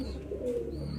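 Highflyer Giribaz and Madrasi pigeons give a brief low coo in a loft, soft and close amid faint ambient hiss.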